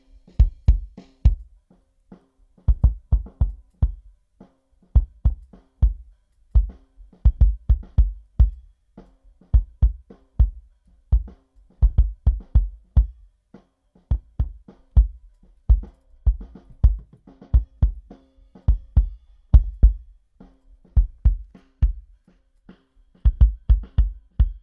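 Layered kick drum with a DN Sub sub-bass layer on a duplicated track, thumping in a steady repeating pattern of deep, punchy hits with silent gaps, loud and dry with no voices.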